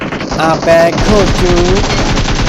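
Gunfire in BGMI (Battlegrounds Mobile India), heard as loud, dense, rapid machine-gun shots throughout. A voice talks over the shooting.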